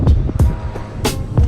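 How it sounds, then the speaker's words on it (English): A punctured rear tire on a Mercedes CLS 55 AMG thumps repeatedly while the car drives, giving a rough, fairly regular beat of low knocks about every third of a second, loud and close. "that's my rear tire that got the puncture"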